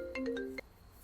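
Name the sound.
mobile phone ringtone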